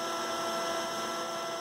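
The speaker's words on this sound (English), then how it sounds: "The roughing passes have a step over of 1/4 inch and are a maximum of 1/4 inch deep" A CNC router with a rotary axis roughs out a 16-inch wooden cabriole leg, taking passes up to a quarter inch deep; a steady, loud whining hum holds without a break and with no talk.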